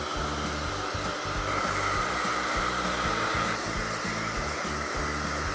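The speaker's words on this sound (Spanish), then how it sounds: "secaremos con calor y estiraremos con una carda el manto" A hair dryer blows hot air over a dog's coat as it is brushed out during grooming with a volumizing foam. The motor drones loudly and steadily at close range, alone throughout.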